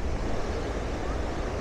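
Strong ocean waves at the coast near Tanah Lot, Bali, a dense continuous roar of surf mixed with wind buffeting the microphone.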